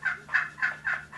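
A Ring Zone turkey call gives five short, evenly spaced clucks, crisp and close in a quick regular rhythm, with no voices.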